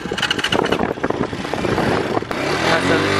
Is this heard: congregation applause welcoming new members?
no